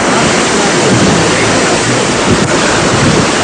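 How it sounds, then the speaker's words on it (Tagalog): Powerful surf from Super Typhoon Yolanda pounds a pier in Vera, Catanduanes, a continuous loud roar of crashing water with heavy wind buffeting the microphone throughout. "malalakas na alon ng humampas sa pier ng Vera, Catanduanes"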